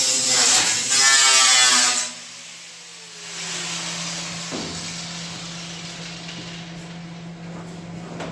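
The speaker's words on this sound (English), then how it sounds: "I'm going to go ahead now and get out the zip cut wheel" A zip cut wheel, a thin cut-off disc, runs against sheet metal on a VIC100 project, first as a loud high shriek for about two seconds, then dropping to a steadier whine as the motor keeps running.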